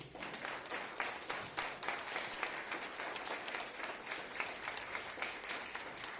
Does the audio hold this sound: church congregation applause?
yes